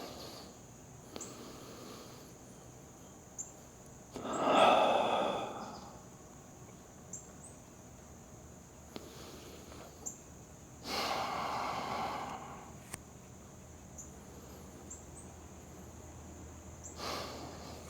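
Deep, slow breaths during a yoga pose with hips raised, heard as a few soft breathy swells spaced several seconds apart over a quiet room.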